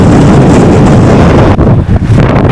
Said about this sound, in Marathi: एकदम भयानक वारा आहे.